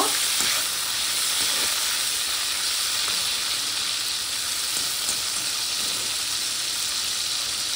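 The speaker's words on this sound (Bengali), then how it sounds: "চিংড়ি মাছগুলি ভালো করে ভেজে নেব।" Steady, loud sizzle of prawns coated in salt and turmeric frying in a pan, a continuous bright hiss with faint stirring scrapes throughout, no voices.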